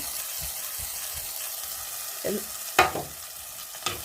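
Masala paste of chili, coriander and turmeric powder sizzles softly in a pan for an Alleppey-style fish curry, with a few scraping stirs and clinks standing out over a low frying hiss.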